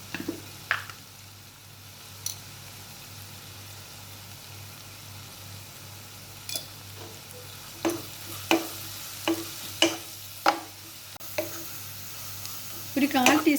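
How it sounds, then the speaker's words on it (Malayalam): Onions sautéing in oil with salt and turmeric powder, stirred by hand; a low sizzle runs underneath sharp scraping clicks that come in a loose run toward the end. "നമുക്ക് അല്പം ഉപ്പും മഞ്ഞൾപ്പൊടിയും കൂടി ഇട്ട് അങ്ങ് ഇതങ്ങ് വഴറ്റാം."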